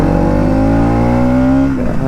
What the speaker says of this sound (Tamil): இந்த எக்ஸாஸ்ட் கேட்குறீங்களா?